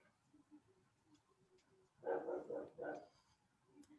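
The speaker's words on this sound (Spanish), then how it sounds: "Perdón, mi perro." Pet dog barking in a home room during an online class, a loud cluster of three or four quick barks close by amid quiet background.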